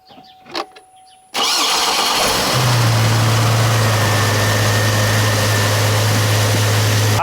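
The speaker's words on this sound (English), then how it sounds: "So let's go hit the starter and start her up." A 2006 Chevrolet Trailblazer's engine cranks and catches with a sudden loud burst, then settles into a steady, droning idle heard up close with no talking.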